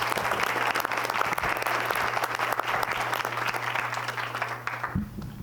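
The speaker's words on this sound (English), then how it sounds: "A round of applause for Avon Middle School" An audience at a school board of education meeting claps steadily for Avon Middle School staff, a dense sustained round of applause with a low hum underneath that tapers off at the end.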